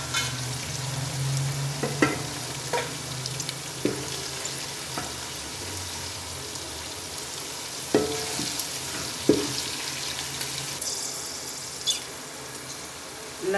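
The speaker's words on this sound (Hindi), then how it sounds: "लोबिया हमारा हल्का फ्राई हो चुका है।" Lobia (white beans) frying in a pan, a continuous sizzle broken by scraping stirs and occasional utensil knocks, close and steady with no talk.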